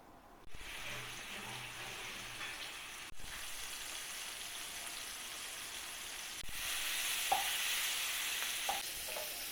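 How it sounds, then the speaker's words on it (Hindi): Marinated chicken sizzling in three tablespoons of hot oil in a frying pan, a steady close crackle that grows louder and denser partway through, with occasional stirring clatter. "हमने 3 टेबल स्पून तेल डाल दिया है फ्राई पैन में। अभी ये मैरिनेट चिकन डालने लगे हैं।"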